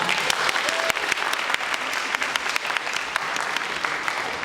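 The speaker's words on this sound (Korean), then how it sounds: "그래서 그 모든 분들께 박수 한 번 더 부탁드립니다." Dense, sustained applause from an audience at an esports forum in Seoul, honouring Faker and the T1 team, a loud continuous wash of many hands clapping.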